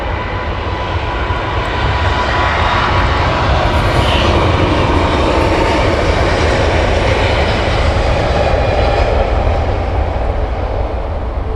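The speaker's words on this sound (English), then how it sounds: "Now the Singapore 380 is taxiing out for departure" A Singapore Airlines A380 taxis out for departure at Heathrow, its engines a continuous, loud broad roar that holds steady throughout with no voices over it.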